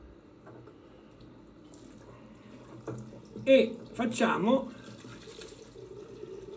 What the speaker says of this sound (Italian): io lascio acceso un po' l'acqua solo perché sennò poi non si scalda più